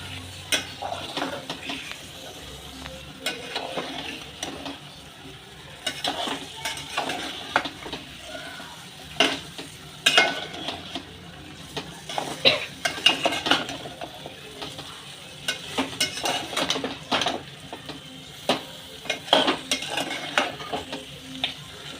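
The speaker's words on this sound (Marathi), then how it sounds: "आधी याला मसाल्यात मस्त मी परतून घेणार आहे आधी चिकनला" Chicken stir-fried in masala for a spicy Khandeshi-style chicken rassa: a spoon keeps scraping and clattering against the pan over a steady low sizzle, with irregular metallic knocks throughout and no talking.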